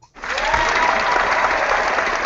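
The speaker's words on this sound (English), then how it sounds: "Romy's applause." Applause breaks out for Romy Clark at a network marketing business event, a dense, steady wash of clapping from an audience that starts abruptly and holds at full strength throughout.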